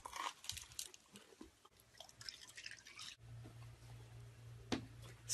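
A person chewing gum, with quiet wet smacks and soft crunching clicks coming close and irregular, alone with no talking.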